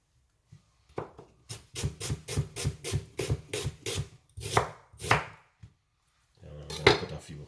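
A knife slices through a red onion on a board, a quick run of about a dozen crisp, evenly spaced chops, then a few slower cuts and a brief scraping rub, close and clear.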